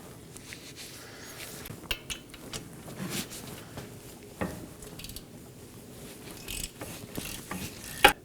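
A ratchet breaks loose 18mm wheel hub bolts on a 2018-2024 Chevrolet Equinox 1.5L during a front CV axle job, with irregular metallic clicks, clanks and tool knocks that peak in a sharp final snap.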